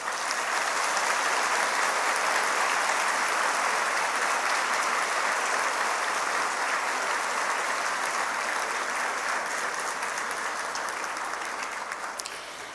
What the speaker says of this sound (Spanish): les otorguemos fuertes aplausos a todos ellos